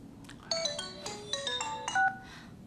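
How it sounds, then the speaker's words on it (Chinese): A phone ringtone plays a bright electronic melody of several clear, sustained tones in quick succession, loud and close, with no talk over it. "爸，我接个电话。"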